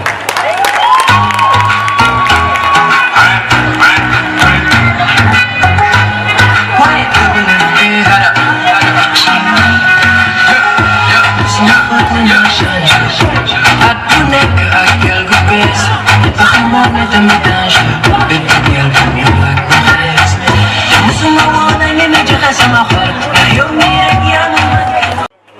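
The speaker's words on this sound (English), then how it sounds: "A round of applause for Miss Antoinette Badi, contestant number" A loud, dense crowd cheers and applauds throughout at the Miss Brufut 2022 pageant, with music and hubbub underneath and the noise sustained at full level until it cuts off at the end.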